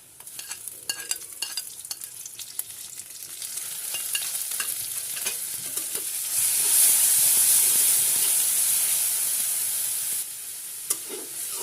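Onion and cumin paste frying in a pan while being stirred, a steady sizzle with scraping and stirring clicks that swells into a louder, brighter hiss partway through, with no talking.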